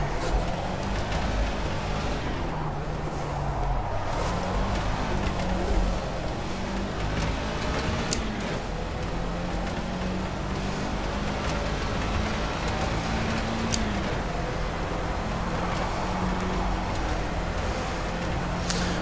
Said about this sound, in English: I've been driving the Formula A and that is quite loud.